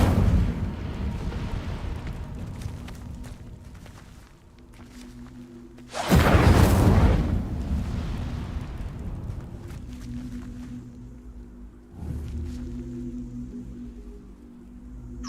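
An Incendio fire spell cast in the game Hogwarts Legacy bursts out as a loud roaring whoosh of flame that swells and fades over a couple of seconds, set against a constant low rumbling game background.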